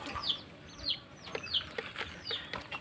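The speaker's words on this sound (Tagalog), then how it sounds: "At ito naman yung ating mga pasisiw na mistisong labuyo." Mestizo labuyo junglefowl chicks, from a bantam hen and a pure labuyo rooster, give faint, quick, high peeps and soft clucks in a scattered run, with no voices.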